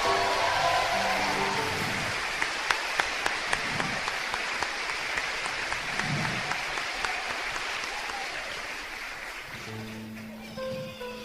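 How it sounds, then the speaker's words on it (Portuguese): Audience applause at a Catholic talk on the Virgin Mary fills the room for about ten seconds: dense, steady clapping from a sizable crowd, easing off near the end as a voice and some tonal sound come in. "mais uma salva de palmas porque ela merece"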